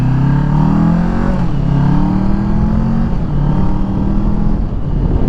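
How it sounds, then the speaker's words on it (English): A 2019 Kawasaki Ninja 650 motorcycle engine drones loud and close, with its pitch stepping down and then climbing again as it moves through the gears. "I am shifting unnecessarily through the gears here. I'm in 4th, whereas I could certainly be in 2nd"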